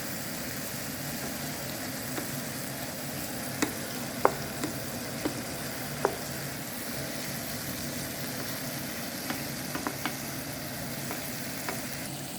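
Half-moon zucchini pieces sauteing in a pan, a soft continuous sizzle with a few light scrapes and clicks from stirring, fairly quiet and close, with no talking.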